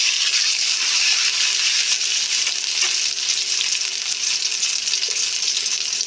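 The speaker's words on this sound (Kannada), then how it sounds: "ಆಯಿಲ್ ಹಾಕ್ಕೊಂಡು ನಾನು ಆ ಮೊಟ್ಟೆ ಎಲ್ಲ ಫುಲ್ ತಗೊಂಡಿದ್ಮೇಲೆ ಅದು ಹಾಕ್ಕೊಂಡು ಫ್ರೈ ಮಾಡ್ಕೊತೀನಿ" Whole boiled eggs frying in oil in a pan, a loud, dense, even sizzle that hisses close by without a break, with faint stirring underneath.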